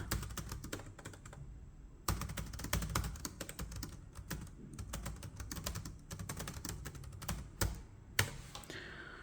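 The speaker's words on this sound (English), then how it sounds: "Let me retype this and I won't say anything. And hear the keyboard and how it sounds" Typing on a Nextbook NT128 PRO 14.1-inch laptop keyboard, a dense run of sharp, mechanical-sounding key clicks in quick irregular bursts with brief pauses, close and fairly loud, no talking.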